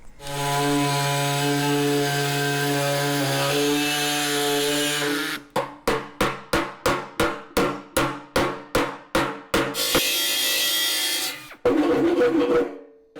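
A power tool cuts a hole through a Harley FXR steel gas tank for an EFI fuel pump flange: a long steady whine, then a run of about a dozen rhythmic stuttering bursts, then more continuous cutting, loud and close with no talk.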